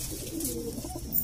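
Indian pigeon (kabootar) cooing up close, a short low rolling coo over faint background hiss, heard alone without talk.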